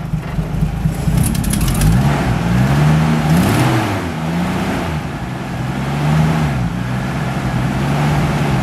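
A car engine idles and runs just after being started on a gnarly-sounding starter motor, a steady low rumble with a couple of gentle rev swells, close and continuous.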